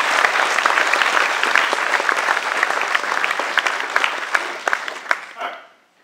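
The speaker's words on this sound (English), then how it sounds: "So, big round of applause for Emilio, please." A large audience applauding at a physics talk, a thick continuous wall of clapping that stays loud for about five seconds before thinning and fading out quickly.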